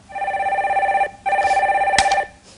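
A telephone rings out loud and close in two long trilling bursts with a short gap between them, heard as a caller is put through on a live radio call-in show.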